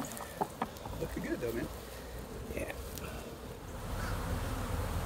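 A dense swarm of bees buzzes close by around a beekeeper's hives, a continuous hum under faint talk with a few clucking chicken-like sounds in the background.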